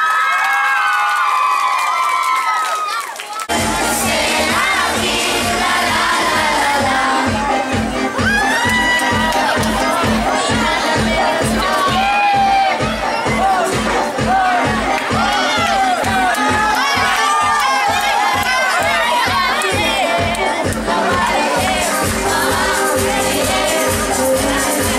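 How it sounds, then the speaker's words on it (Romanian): A large outdoor festival crowd at the Fălticeni municipal days celebration cheers and shouts loudly and continuously, with applause and children's voices mixed in, following a singer's closing song. "Aplauze, vă rog frumos!"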